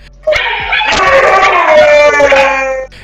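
A husky dog howls and cries loudly indoors in a long, sustained wavering wail lasting nearly three seconds, with no one speaking.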